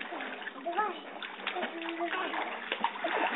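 A young girl swimming underwater in a pool in summer, with watery splashes and sloshing heard faintly and at a distance while adults talk over the water sounds.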